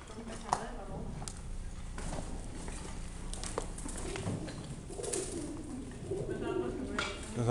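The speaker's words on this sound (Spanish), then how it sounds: "Está todo lleno de palomas." Pigeons coo and flutter inside a stairwell, a continuous busy wash of wing beats and soft calls with occasional sharp flaps, while a person speaks now and then over the birds.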